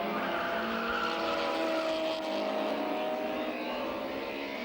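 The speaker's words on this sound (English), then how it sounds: "the drivers are hard on the brakes for the continental hairpin" Touring race cars on a South African circuit braking hard into a hairpin near the end of a race, a loud continuous blend of engine drone and tyre noise with shifting tones, no talk.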